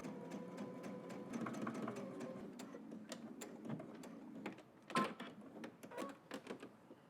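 A sewing machine stitching in the ditch to close a shirt cuff, running in quick rhythmic ticking bursts with brief pauses and a soft motor hum, close and with no talk.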